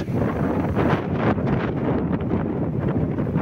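Strong wind gusting beside the Krishna River at Somasila, Telangana, a steady loud roar buffeting the microphone throughout with no voices.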